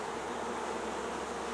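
Dense, steady drone of many honey bees bearding on the outside of a hive in Alberta on a hot July day, a continuous close buzz with no pauses and no talking.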